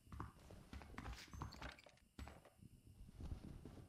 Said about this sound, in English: I feel like I heard like horses come.